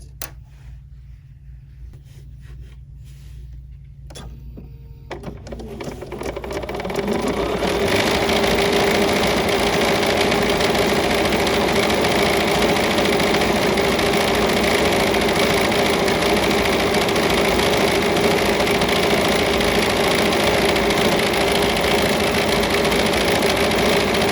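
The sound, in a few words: BERNINA embroidery machine stitching a design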